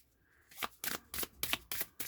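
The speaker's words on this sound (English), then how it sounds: "we'll do one more shuffle" Egyptian Tarot cards being shuffled, a quiet lead-in followed by five or six crisp riffling bursts at a steady rhythm, close and fairly soft, with no voices.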